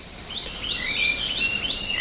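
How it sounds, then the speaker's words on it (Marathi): Birds chirp and tweet in the Konkan countryside near a rural home, a series of bright repeated calls rising and falling in a steady rhythm, fairly close and clear over a quiet background with no talking. "पक्ष्यांच्या किलबिलाटाची"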